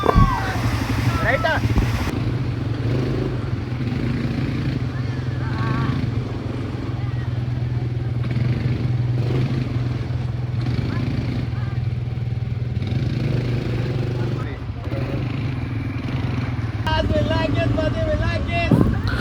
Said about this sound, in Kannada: full off roading ATV ride